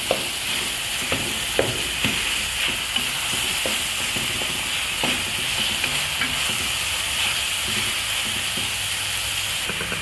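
Browned pork for a lasagna sauce frying in a pan, a steady sizzle running throughout with repeated scraping clicks from stirring, close and continuous.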